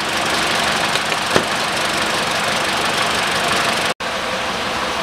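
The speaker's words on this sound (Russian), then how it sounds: "пока двигатель прогревается с коробкой" A 2013 Mitsubishi ASX 1.8 engine idles steadily while warming up, a continuous close mechanical hum with even texture, a brief click partway and a momentary dropout near the end, with no voices.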